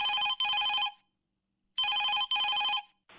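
A telephone on a radio phone-in show rings for an incoming caller, with two bursts of double electronic trills separated by a short silence, then a third ring starting, loud and clean with nothing else heard.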